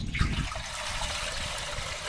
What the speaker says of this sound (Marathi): आता पातेलं ठेवले, याच्यामध्ये भरपूर पाणी आपल्याला टाकायचे।